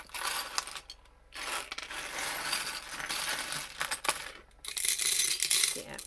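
Vintage buttons sorted by hand and dropped into a pile, a dense run of small hard clicks and rattling clatter that pauses briefly and then resumes, close and fairly loud.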